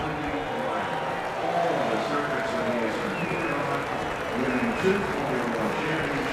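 A crowd at the Indianapolis 500 cheers and applauds in a continuous, fairly loud roar, with a voice talking over it at times.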